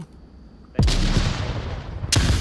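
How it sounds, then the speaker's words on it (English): A frag grenade goes off in a competitive VR shooter match: a sudden, loud, close blast with a rumbling tail, then a second sharp burst about a second later. "We got a frag coming in that's not going to hit"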